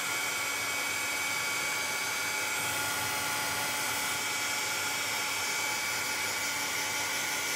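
A hair dryer blows steadily and loudly at close range, drying paint on a birthday-cake door hanger, a constant whooshing motor roar with no breaks and no talking.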